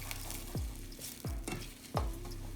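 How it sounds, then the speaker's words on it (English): Egg yolks broken and stirred into cooking eggs in a frying pan for a bacon, egg and cheese, a soft steady sizzle broken by three distinct scraping stirs, close and quiet with no voices. "we're gonna break the egg yolks, and we're gonna kind of stir that in"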